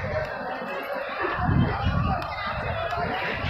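Crowd inside Jama Masjid in Delhi, a steady hubbub of overlapping voices and chatter with occasional bursts of nearby activity, continuous and moderately loud.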